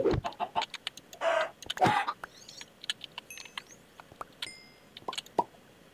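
Video-game chickens cluck and squawk in rapid, irregular bursts, close and fairly loud, with small pops and plops scattered between the calls.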